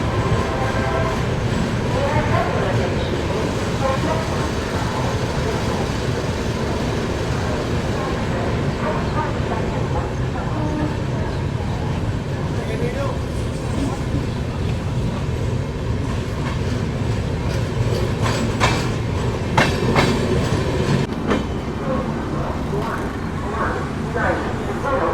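A Humsafar Express train runs through Mathura Cantt railway station without stopping, giving a steady, loud rumble with wheel clatter throughout, heard from on board, with voices over the noise.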